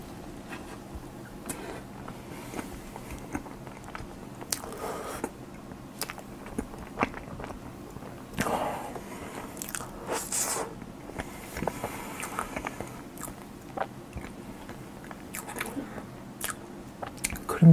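Someone eats a Valentine's limited-edition handmade chocolate cake (pavé and raw roll chocolat) close to the microphone, with soft, sticky bites and quiet chewing spread unevenly over a hushed background.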